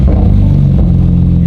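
An 800-horsepower supercar engine, warm rather than cold-started, holds a loud, deep, steady rumble with a slight dip midway, close and continuous with no talk over it.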